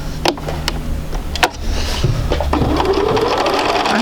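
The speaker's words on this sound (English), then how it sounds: "let's go ahead and sew these together." Sewing machine stitching quilt fabric pieces together for a sampler block, a steady continuous mechanical whir running close up and alone after a couple of brief clicks at the start.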